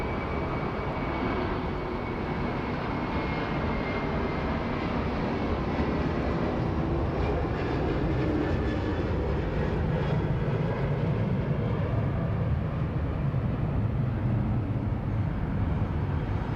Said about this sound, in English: Here we go, Qantas A330. Let's get a nice early rotation for the viewers.